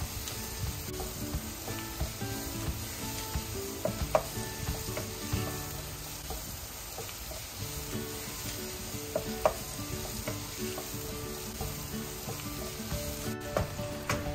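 Ground meat with radish pods sizzles steadily in a pan while being stirred, a continuous close frying hiss broken by occasional scrapes and clicks of the spoon, with no talking.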